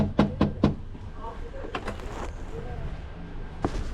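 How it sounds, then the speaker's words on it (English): Three quick knocks land on a house door during a food delivery, close and sharp, followed by faint background noise and a later single knock-like thud. "I'm gonna knock on it, however."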